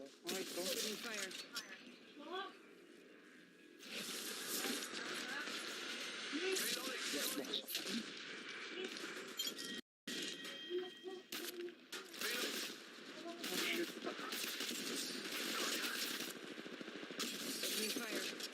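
Bursts of gunfire from the mobile game Apex Legends Mobile rattle in clusters over roughly eighteen seconds, dense and loud, with game voice lines and players talking through it and one brief dropout near the middle.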